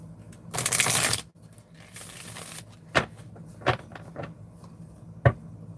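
A deck of tarot cards is shuffled up close in two quick riffling bursts, followed by several soft taps and knocks as the cards are squared, with no talking.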